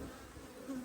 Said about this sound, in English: here we are offering the bees, and there is a Wasp, is it? wasp sitting on the beehive